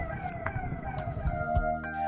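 A police car siren wails as the vehicle, decorated with balloons, moves through the lanes of Chhapra, Bihar. The rising and falling tone carries at moderate distance over a low street rumble.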